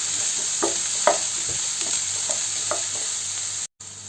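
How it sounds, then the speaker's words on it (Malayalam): Onion, ginger, curry leaves and green chilli sauté in a pan with a steady close sizzle, broken by several soft scrapes and stirs of a spatula, ending in a brief dropout. "ഇപ്പോൾ നമ്മുടെ സവാളയും ഇഞ്ചിയും അതുപോലെ തന്നെ നമ്മുടെ വേപ്പില, പച്ചമുളക്, ഇതൊക്കെ നന്നായിട്ടൊന്ന് വാടി വന്നിട്ടുണ്ട്"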